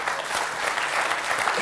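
Steady, dense applause from a studio audience at a Georgian TV comedy contest final, loud and continuous throughout with no speech over it.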